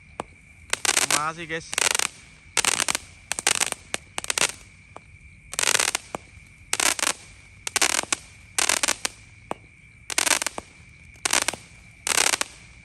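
Jumbo firecrackers and fireworks go off at night in rapid crackling bursts, loud and close, with one whistling rise early on and irregular volleys repeating, while someone briefly speaks between them.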